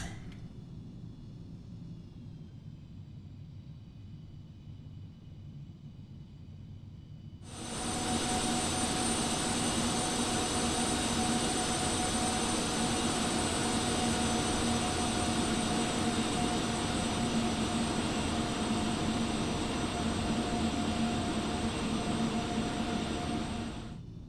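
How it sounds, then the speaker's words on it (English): Simulated Beechcraft Premier 1A business jet in X-Plane 11 taxiing at an airport, a low steady engine whine that swells abruptly into a loud, sustained jet roar with high tonal whistles as power is added. "Release the park and brake. Give it a little power. We'll make a little U-turn here."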